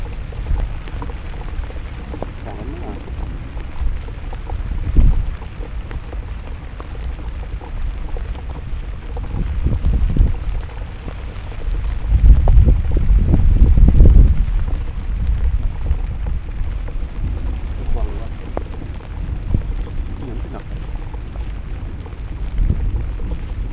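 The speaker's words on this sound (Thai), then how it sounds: "เอาฟิวบรรยากาศฝนตก" Rain falling over a fishing pond, a loud broadband hiss with low rumbling swells and gusts that build around the middle, with no speech.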